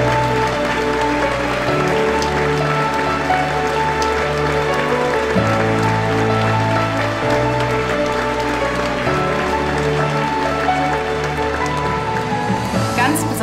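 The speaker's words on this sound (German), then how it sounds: "dafür habt ihr euch einen großen Applaus verdient" A crowd at a school newspaper gala in Frankfurt claps for the participating students, a steady broadband clatter of hands running under loud rhythmic music with sustained low notes.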